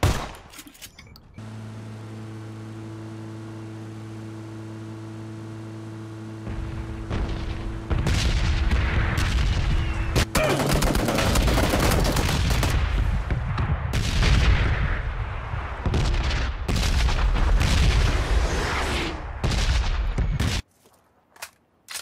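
Gunfire in PUBG rings out as a sustained burst of rapid shots and booming reports, loud and dense over a low droning hum, then stops abruptly with a couple of last isolated shots.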